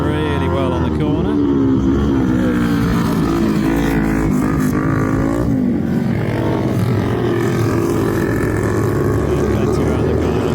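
Flat track racing motorcycles at Scunthorpe slide around a corner while lapping a back marker, a loud continuous engine drone with rising and falling pitch as the bikes power through the turn, heard under a voice talking throughout.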